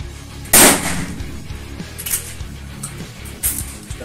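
A CBC Military 3.0 shotgun with a 16-inch barrel fires a High Impact SG buckshot cartridge at an 8-metre target: one loud, sharp report near the start, followed by a decaying outdoor echo and fainter knocks.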